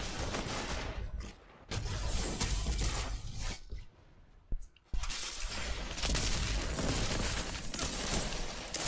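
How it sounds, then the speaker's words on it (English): Gunfire rattles in the video game Destiny 2, loud bursts of shots broken by a few brief gaps, with a sharp crack near the middle and continuous firing afterward; no one speaks. "Oh, someone's shooting over here."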